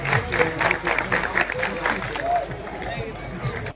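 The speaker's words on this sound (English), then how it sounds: "get the crowd involved by starting to clap" Crowd in a stadium clapping in rhythm for a jumper's run-up, regular pulses of claps repeating roughly every quarter second and fading toward the end, over general crowd murmur.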